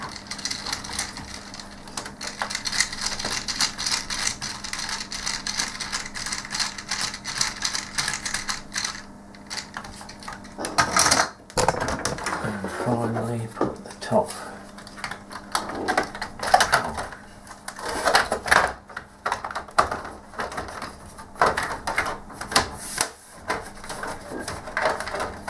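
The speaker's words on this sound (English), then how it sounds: "Screw back in the keyboard screw." A screw is driven back into the keyboard mount of a Commodore C64c case, heard as a long run of close scraping, ticking and rattling, with brief pauses and bursts of plastic handling.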